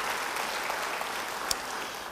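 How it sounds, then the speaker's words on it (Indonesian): A church congregation claps together during a sermon, a dense even patter of many hands filling the space, steady throughout with one brief sharper sound near the middle. "Beri tepuk tangan bagi dia."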